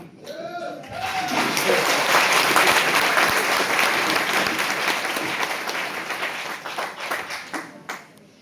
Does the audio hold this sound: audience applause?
yes